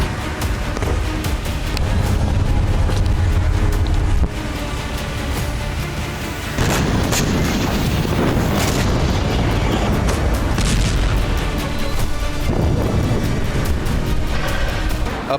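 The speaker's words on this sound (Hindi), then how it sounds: "गोलन हाइट्स और उसके आगे के क्षेत्र में धमाके सुने" Explosions near the Golan Heights in Syria sound as heavy, booming blasts and rumbling bursts, loud and repeated over a continuous low roar, with the sharpest impacts around the middle.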